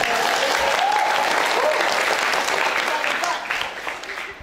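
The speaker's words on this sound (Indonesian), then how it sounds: "Tepuk tangan buat dia ya." An audience at a school theatre workshop applauds a student, dense steady clapping filling the room before gradually thinning out toward the end.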